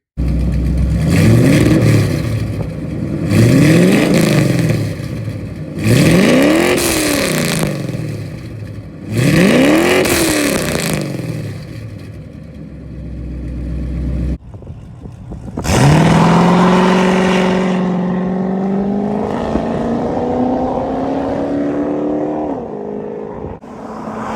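A 1969 Ford Mustang Mach 1 with long tube headers, an X pipe, straight pipes and resonated tips, loud and close: four sharp throttle blips, then a long rising rev that settles into a rough, rumbling idle.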